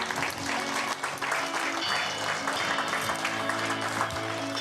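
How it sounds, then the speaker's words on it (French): A crowd at the final of a pétanque festival in Saint-Juéry applauds the regional referee, with steady, dense clapping that holds fairly loud for the whole stretch and only faint voices underneath. "On va applaudir l'arbitre régional Jésus Carretero"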